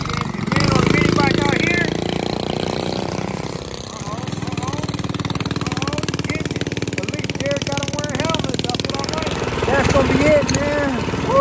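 A small minibike engine buzzes and revs continuously close by, the pitch climbing in uneven surges as it pulls away in a high gear, with people talking and shouting over it.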